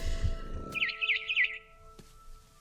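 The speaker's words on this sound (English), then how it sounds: "Then I heard chirping outside my window. It was a barn swallow going back to her nest." A barn swallow chirps outside a window in the game What Remains of Edith Finch, a short quick burst of bright twittering notes over a faint steady tone, with a few soft clicks afterward.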